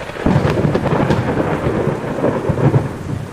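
Rain and a thunderstorm, with low rolling thunder rumbles and a steady wash of rainfall running continuously throughout, loud and close with no voices.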